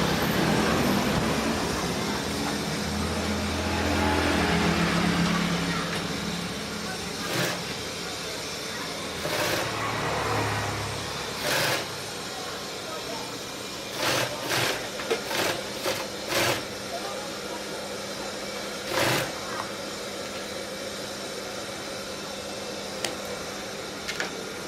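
A GC0303CX walking foot sewing machine stitching thick material at a shorter stitch length runs in several short bursts of rapid mechanical clatter, separated by pauses, over a steady background hum.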